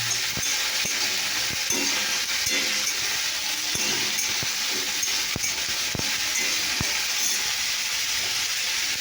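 Panch phoron spices frying in hot mustard oil, a continuous loud sizzle with repeated sharp taps and scrapes of a stirring utensil against the pan.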